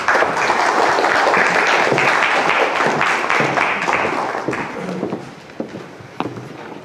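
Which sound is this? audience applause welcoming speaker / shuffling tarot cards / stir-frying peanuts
audience applause welcoming speaker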